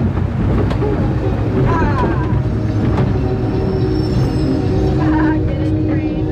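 Steady, loud rumble of a passing train with wind buffeting the microphone, a continuous rolling roar with faint high squeals and clanks over it.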